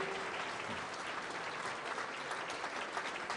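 Audience applause at a cultural conference event, a dense steady clapping that fills the whole stretch at a moderate, slightly distant level with no speech over it.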